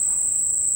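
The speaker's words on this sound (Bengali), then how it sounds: "সুন্দর ঝিঝি পোকার আওয়াজ পাওয়া যাচ্ছে।" Steady, continuous cricket chirping at night at a nature resort, an unbroken high-pitched trill holding at even loudness throughout with no voices.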